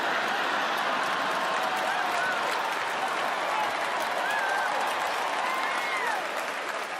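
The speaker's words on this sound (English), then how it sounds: "And if you're not clapping right now" Steady, dense audience clapping fills a stand-up comedy venue, many hands applauding at constant loudness throughout with a few faint whoops and voices mixed into the crowd noise.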